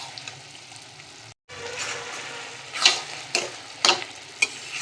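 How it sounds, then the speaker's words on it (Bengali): A curry with ghee in a pan being stirred, with a soft low sizzle broken by a brief cut, then several sharp spoon scrapes and clinks against the pan. "ঘিটা ভালো করে নেড়ে দিচ্ছি"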